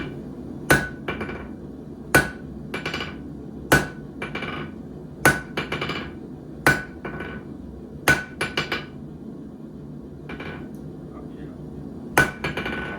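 A forging hammer rings sharply on hot metal in a smithy, with close, loud single blows every second or two, an occasional quick double strike, and pauses between groups.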